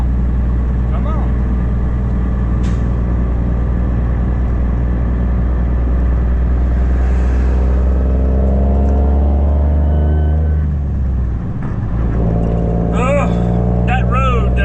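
A car passes close by on a road, its engine rumble swelling loud and steady beneath a constant low truck drone, with someone talking over it.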